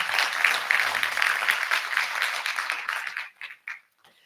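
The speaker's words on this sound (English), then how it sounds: "Let's give the Deputy Minister another round of applause." Conference delegates applaud the Deputy Minister after an Enlit Africa keynote plenary session, a moderate round of clapping that thins out, breaking into a few scattered final claps before stopping.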